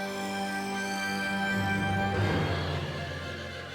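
A soldier's horse in a British royal fortress setting gives a drawn-out whinny, loud and near, with no talk over it.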